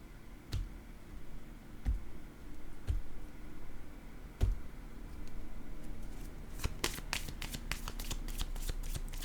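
A deck of playing cards is shuffled in a quiet room. A few soft separate flicks lead into a quick riffling burst near the end, close and faint.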